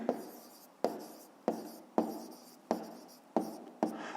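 A pencil or pen writing on paper while working a fifth-grade arithmetic exercise, with seven repeated strokes at a steady rhythm, each starting sharply and trailing off. It is close and fairly quiet, with no voices.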